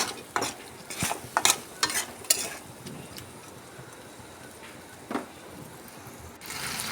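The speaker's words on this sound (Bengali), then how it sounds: "তো ডালটাকে আমি এই মশলার সঙ্গে খুব ভালো করে কষিয়ে নেব।" Washed masoor lentils fried and stirred with spices in a pan, sharp spoon scrapes and clinks in irregular bursts over a soft sizzle, close and fairly quiet, no talking.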